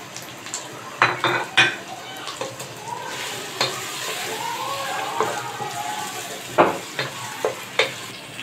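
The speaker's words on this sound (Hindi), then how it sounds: "दो मिनट तक इसको हम भूनेंगे। इसी के साथ ये जो गोश्त था ये भी डाल दूंगी।" Mutton sizzles in a pot with garlic-ginger paste as a spoon stirs and scrapes against the metal, giving sharp clinks and knocks over a steady frying hiss, close and fairly loud.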